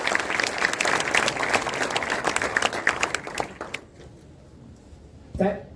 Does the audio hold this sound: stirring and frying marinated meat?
no